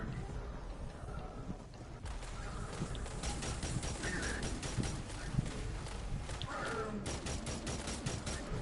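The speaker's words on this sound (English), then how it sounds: "A faster shooting hand cannon." A fast-firing sidearm that handles like a hand cannon shoots in the video game Destiny 2. Rapid bursts of sharp shots rattle almost continuously over a dense, noisy battle backdrop, with no one speaking.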